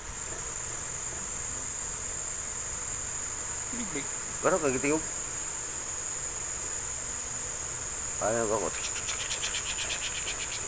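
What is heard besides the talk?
cricket chirping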